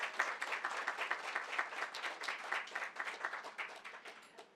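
A hall crowd gives a round of applause to grand sponsors at a leadership award celebration, with dense, even clapping that stays fairly faint and distant and tapers off toward the end.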